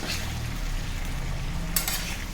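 Cherry tomatoes for tomato pickle cooking in oil in a pan, a close, steady low sizzle and bubbling with faint stirring, no voices.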